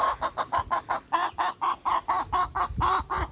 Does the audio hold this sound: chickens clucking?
yes